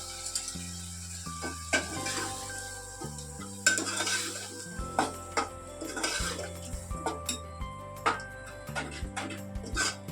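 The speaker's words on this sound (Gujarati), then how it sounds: "હવે આપણે આ મગ છે એ નાખી દેવાનું" Mung beans tipped into a hot pan for a Kathiyawadi curry, then stirred with a utensil: repeated scraping and clinking strokes against the pan over a soft sizzle, close and fairly quiet, with music playing along.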